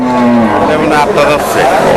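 Cattle at a crowded cattle market in Manikganj low and moo once near the start, then the moo gives way to busy market noise and people talking nearby.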